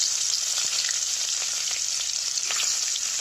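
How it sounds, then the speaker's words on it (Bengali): Pieces of rohu fish from a home pond fry in hot oil in a wok, giving a steady, close sizzle with occasional sharper crackles and pops throughout. "তেল গরম হয়ে গেছে, মাছটা ভেজে নিচ্ছি।"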